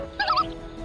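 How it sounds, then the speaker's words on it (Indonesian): A short, near gobbling bird call warbles over faint background hum, lasting well under a second. "Gawat, gara-gara burung."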